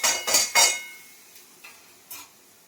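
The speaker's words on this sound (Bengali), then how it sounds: "দিয়ে মশলাটাকে ভালো করে ভেজে নিই।" A spoon scraping and knocking in a pan while ginger, cumin, bay leaf and green chilli fry, three quick loud metallic strokes up close followed by softer occasional taps over a faint sizzle.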